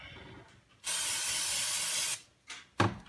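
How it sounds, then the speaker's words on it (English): Aerosol cleaner sprayed onto a cable-driven Ford throttle body: one steady hiss lasting over a second, close and clear, followed by two short sharp spurts. "we're just going to start cleaning it by spraying everything"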